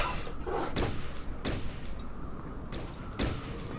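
Gunfire in Fallout Tactics, with about five sharp shots spaced irregularly over a few seconds against a noisy combat background, no talking.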